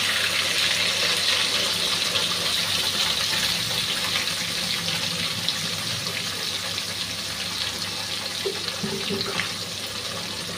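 Water pours steadily into a cooking pan over onion, ginger and green chili paste, a continuous rushing gush lasting the whole stretch with no talk.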